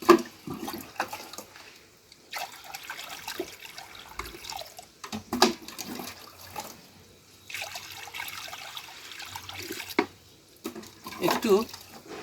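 Water pours from a tap into a container planted with lotus, filling it until it overflows, a running splash and trickle that comes and goes in bursts under a person talking.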